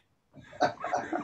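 A guinea pig gives a short run of chirping, chuckling squeaks up close after a moment of silence, several quick calls bunched together.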